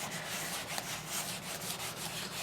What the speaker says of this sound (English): give it a good buffing